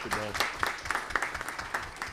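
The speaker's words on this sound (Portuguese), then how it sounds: "Peço uma salva de palmas às mulheres" A crowd applauding, steady clapping from many hands with a voice briefly over the start, moderately loud and slightly distant.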